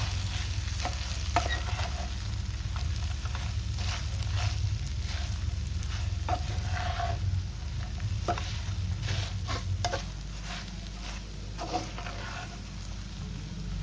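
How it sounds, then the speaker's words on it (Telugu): Broad beans sizzle in a frying pan with garlic chili powder and coriander powder while they are stirred, giving a continuous frying hiss broken by frequent close scrapes and clicks from the spoon. "వెల్లుల్లి కారం మాడకుండా చక్కగా తిప్పుకోవాలి"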